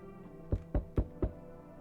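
Four firm knocks on a door in the video game No, I'm Not a Human, evenly spaced and close, with near silence around them.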